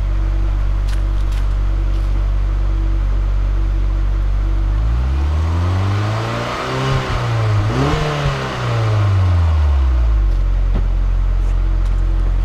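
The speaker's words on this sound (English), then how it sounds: "I'll give it a little bit of a rev." A 1990 Toyota MR-2 TRD 2000GT widebody sits idling with a steady low rumble, then its engine revs up sharply and falls back in one pass before settling to idle again, loud and close.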